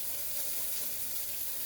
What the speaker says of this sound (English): We're going to let that saute for a few minutes.